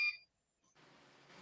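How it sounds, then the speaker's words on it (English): A battery backup unit beeps during a power brownout: one short, clear electronic beep at the very start, followed by quiet hiss. "you hear that beeping? That's my battery backup in effect."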